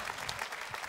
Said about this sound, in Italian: Allora, fate un grande applauso.